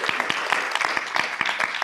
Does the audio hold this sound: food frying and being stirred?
no